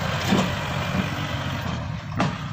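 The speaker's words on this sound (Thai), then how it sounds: "วัน นี้อาคิวขับรถไถนะคะ" A tractor engine runs close by with a steady, loud mid-pitched drone, holding an even rhythm for the whole stretch with only slight swells.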